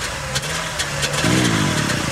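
A Trabant car with a swapped engine revs in a festival setting, a buzzy mid-pitched engine note that rises into a rougher rev about halfway through, fairly loud amid broadband background noise.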